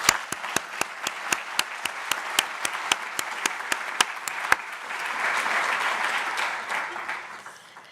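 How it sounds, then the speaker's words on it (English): Audience applause at a consumer protection day event, starting with a dozen or so spaced, crisp claps and swelling into a dense, steady round of clapping that fades toward the end. "please join me in a round of applause to thank all of them for the hard work"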